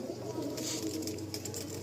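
Pigeons kept for sale, cooing softly in a low, continuous murmur with faint flutters and light rustles over the top.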